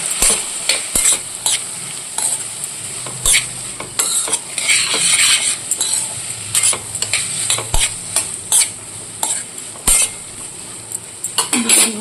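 Chicken is stirred with chili powder and salt in a sizzling pan: a spoon scrapes and clinks against the metal in quick, uneven strokes over constant frying hiss, close and loud.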